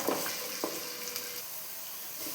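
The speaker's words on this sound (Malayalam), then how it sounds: "ഇനി ഇതെല്ലാം കൂടെ നന്നായിട്ടൊന്ന് മൂപ്പിച്ചെടുക്കണം" Green chilies, ginger and curry leaves frying in oil for a lemon-date pickle, a soft steady sizzle close by with a few light clicks of stirring against the pan.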